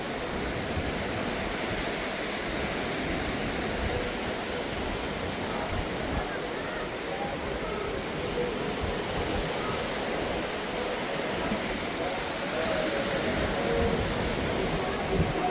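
Waves wash steadily onto White Sands Beach on Koh Samet, Thailand, a constant broad hiss of surf that holds at an even level throughout with no clear breaks.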